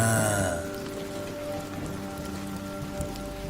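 Heavy rain at night pours steadily in a dense, unbroken hiss, loud and close, while a sustained tonal layer fades out early and a faint low rumble sits beneath the downpour.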